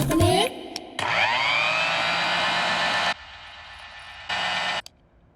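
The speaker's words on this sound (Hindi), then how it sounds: "एक बार मिक्सर ऑन करके सुनाइए" A kitchen mixer grinder whirs loudly with a high whining drone for about two seconds, cuts off, then runs again in a brief burst before stopping.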